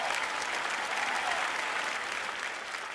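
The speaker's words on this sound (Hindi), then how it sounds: "जोरदार तालियां आपके लिए।" Steady, dense audience applause fills the whole stretch at an even, loud level, a broad wash of many hands clapping together after a stage performance.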